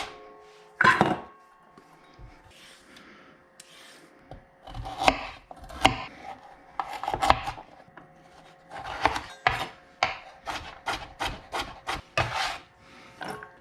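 A knife chops vegetables such as celery on a cutting board for bolognese, with sharp, irregular knocks that settle into a quick, steady rhythm, close and clear in a quiet kitchen.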